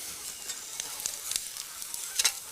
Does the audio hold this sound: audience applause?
no